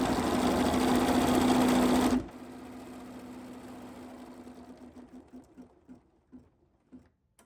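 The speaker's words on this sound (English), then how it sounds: "So all of our placement stitches will stitch out together." An embroidery sewing machine stitches out placement stitches, loud and steady for about two seconds before cutting off into a few softer, spaced needle clicks as it slows and stops.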